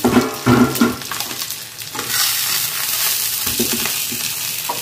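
Banana flower paturi wrapped in leaf fries in a covered pan, giving a steady close sizzle and crackle with a few clatters of the lid or utensil at the start.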